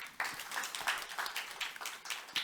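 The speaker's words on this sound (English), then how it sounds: "You got a round of applause" Audience applause at a regional clusters conference, a continuous wash of many hands clapping with rhythmic swells, fairly even and moderately distant.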